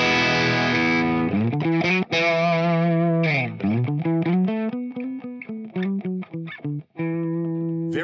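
Electric guitar played through a Mesa Boogie Mark IIC+ amp model on ToneX, heavily distorted sustained notes and bends with rhythmic chugging stops, loud and alone.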